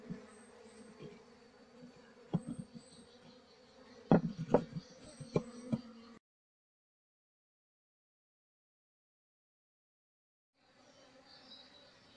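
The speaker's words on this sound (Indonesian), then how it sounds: "saya pancing mengambil sejumlah koloni lebah supaya dia segera mengetahui keberadaan ratunya" A steady buzzing of a honey bee colony being moved from a tree hums close by, with a few sharp knocks and clicks, then silence before the buzzing faintly returns.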